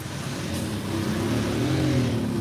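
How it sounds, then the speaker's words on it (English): Vehicle engine revving and droning on a busy city street near a local market in Cambodia, a continuous nearby roar that rises slightly in pitch. No one speaks. "if you don't like road noise, you shouldn't live in the city"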